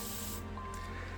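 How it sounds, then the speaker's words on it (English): A spray bottle mists water onto isopod enclosure substrate, a close soft hiss lasting under half a second, then fading into a faint room hum. "I give that a spray so it will retain a little bit of moisture"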